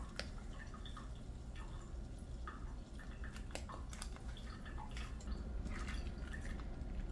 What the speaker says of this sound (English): I have my water boiling, so now I will put my dumplings in